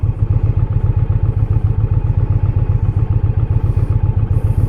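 Indian Challenger-type motorcycle riding on a sunny day in Savannah, Georgia, its engine thumping in a steady, fast pulsing rhythm, loud and close, with low rumble and clatter and no talking.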